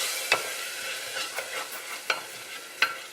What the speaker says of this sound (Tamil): தயிரை சேர்த்து நல்லா வதக்கிக்கோங்க